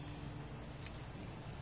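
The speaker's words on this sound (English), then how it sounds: "I have a lot of crickets here." Crickets chirping outdoors at night in Glen Head, a faint continuous high trill pulsing steadily over a low background hum, with no voices.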